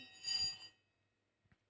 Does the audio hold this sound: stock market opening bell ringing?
yes